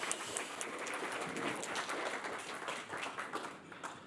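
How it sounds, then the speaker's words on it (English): Steady applause and clapping from a conference audience at DConf '24, greeting a first-time speaker before a talk on C++ interop; dense, even claps fill the whole stretch at moderate volume with no voices over them. "you get applause if you're a first-time DConf speaker"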